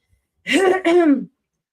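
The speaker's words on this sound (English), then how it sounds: "he's making me clear my throat again" A person clears their throat in a short two-part voiced "a-hem", close and clear against silence, lasting under a second.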